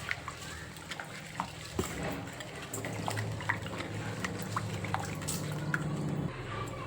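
Rice being washed by hand in a bowl of water, with soft sloshing, swishing and scattered drips continuing steadily, close up and fairly quiet.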